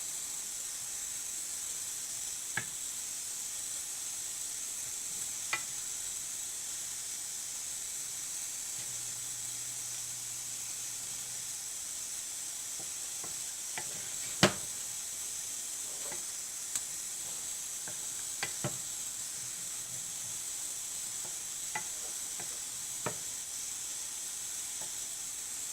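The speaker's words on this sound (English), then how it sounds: "Mix this well carefully with the spices, keeping the flame in low, of course." Paneer and onions fry gently with spices in a pan over a low flame, giving a steady, soft sizzle with occasional faint clicks of stirring.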